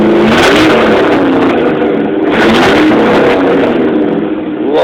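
A truck's Ford 302 V8 engine revving hard nearby, loud rumbling throttle blips rising and falling in two or three surges over a steady idle.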